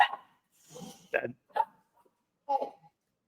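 A puppy gives a few short, sharp yips and barks, spaced irregularly with brief silences between them, fairly close.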